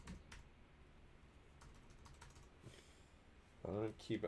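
Soft keystrokes on a computer keyboard, a sparse irregular patter of quiet clicks, close by, with a person starting to speak at the end.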